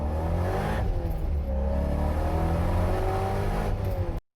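A supercharged C5 Corvette pulls hard in second gear from low revs toward about 6,500 RPM, its engine note climbing steadily and loud throughout, heard from close by with no talking.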